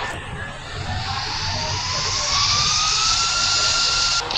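Jet pack in the mobile game Indian Bike Driving 3D, a rising whooshing whine with a siren-like sweeping tone, steady and moderately loud for a few seconds.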